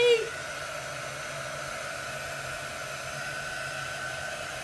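A hair dryer blows steadily on freshly painted craft stars, a constant whirring hum that starts with a brief louder click and holds at an even level throughout.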